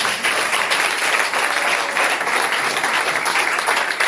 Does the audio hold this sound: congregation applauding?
yes